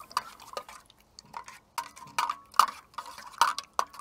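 Light clinks and taps of a spoon against a bowl, irregular and close, with soft scraping between strikes in a quiet room.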